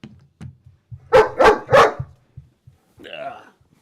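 A guard dog barks three times in quick succession close by, loud and sharp, then gives a short higher whine, with quiet room noise around it.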